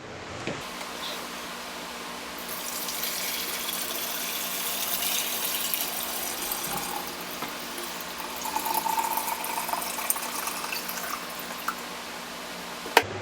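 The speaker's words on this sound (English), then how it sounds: "we're going to add some water into here" Water pours steadily into a humidifier, a continuous splashing gush that rises and shifts in tone as it fills, with no voices.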